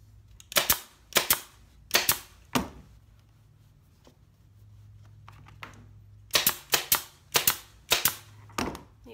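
A staple gun fires staples through fabric on a bench seat being reupholstered: a quick run of sharp, close snaps, a quiet pause with faint handling, then another fast run of snaps, no talking.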